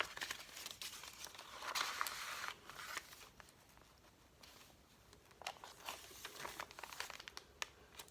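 Paper in a handmade sunflower art journal is handled and crinkled close by, with soft rustling, crackling and page-turning noises coming in quiet irregular bursts.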